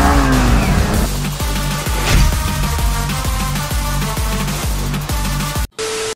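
A KTM RC200 motorcycle engine drones loudly and close with a pulsing rhythm and a rising whine, cutting off abruptly near the end, without clear tire squeal.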